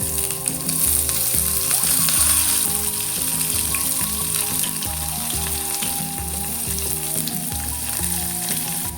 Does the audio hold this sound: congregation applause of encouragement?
no